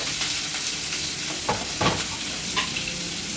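Green chilli, curry leaves and chopped onion sizzle and crackle steadily in hot oil, with a few louder pops and a scrape of stirring rising above the continuous frying hiss.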